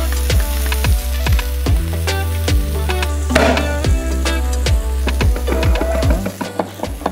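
A steak sears loudly in a hot pan under a press weight, with continuous sizzling crackle, repeated sharp ticks and spits throughout, a brief louder burst midway, alone and close.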